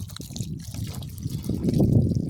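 Water from a newly installed market-garden irrigation system gushes and trickles steadily at close range, growing fuller and louder toward the end, with no talking over it.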